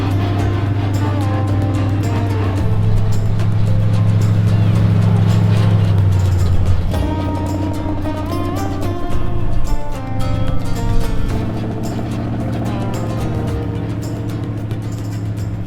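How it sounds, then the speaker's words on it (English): A two-wheel-drive Toyota wrecker crawls over rocks and hunts for traction, its engine droning loudly and steadily with the pitch dipping and climbing as the revs shift. "you can feel the wrecker hunting for traction. Like it's rolling a few rocks under the tires"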